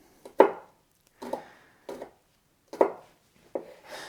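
A knife chops garlic on a cutting board in about six close, crisp strokes at an uneven pace, each a short sharp knock with brief quiet between.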